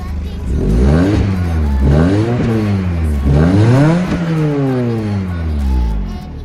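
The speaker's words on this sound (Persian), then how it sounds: "صدای اگزوز، صدای کاملا طبیعی و کاملا سیستم اگزوز فابریک خود آرسی." A Peugeot 206 RC engine revs up and down repeatedly, rising and falling in pitch with a throaty note from its stock factory exhaust, steady and close.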